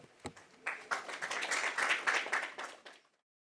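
Audience applause for a lecturer at an endoscopy seminar, moderate clapping from a seated room that builds after a few scattered claps, holds briefly, then tapers off into silence.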